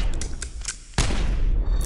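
A loud gunshot blast in Mortal Kombat Mobile cracks out at once after a brief lull, following a stretch of busy, scattered game sounds, and its ringing tail lingers.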